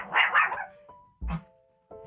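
A dog barks in a home, a couple of quick yips and a short bark with brief pauses, close and moderately loud, with a faint tonal hum in the gaps.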